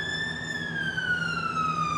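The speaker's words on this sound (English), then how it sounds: "Oh, it's a fire engine." A fire engine's siren wails steadily and loudly near a road outside Cambridge, its pitch sliding slowly downward as the truck passes by, with no talking over it.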